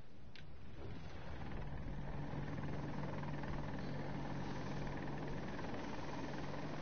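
A helicopter in Battlefield 2042 gameplay gives a steady low droning engine hum with a faint constant tone, held evenly throughout with a brief sharp click near the start.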